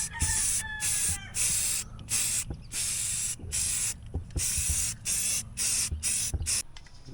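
Spray paint goes onto a taped-off Jeep Cherokee panel in quick repeated bursts, each a loud close hiss about half a second long with short gaps between, and no talking.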